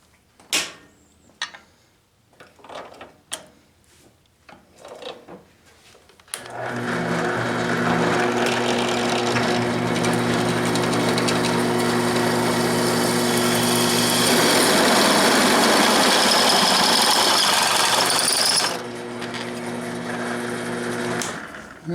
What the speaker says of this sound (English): Unplugged it so I can plug in my drill.